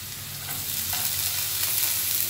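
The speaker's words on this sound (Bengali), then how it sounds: "রসুনটা নাড়াচাড়া করে নেব, কিন্তু ব্রাউন হতে দেব না।" Ten to twelve crushed garlic cloves fry in hot oil in a pan while being stirred, giving a steady, close sizzle with soft scraping that holds at an even loudness throughout, and no voices.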